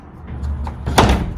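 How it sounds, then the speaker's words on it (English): A storage unit door swings shut with a single close, solid thud after a brief shuffle, loud and near, with no voices. "Let me close this door real quick"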